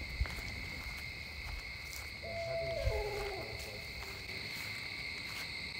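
A barred owl hoots from a distance at Presqu'ile Provincial Park by a lake, a short run of descending, wavering hoots heard once over a steady bed of buzzing crickets and insects.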